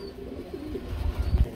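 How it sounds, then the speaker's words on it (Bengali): A pair of Jacobin pigeons coos at close range in a pigeon sale setting, with low, soft throaty coos swelling toward the end of the brief moment. "এত সুন্দর এক জোড়া হল ইন্ডিয়ার জ্যাকোবিন"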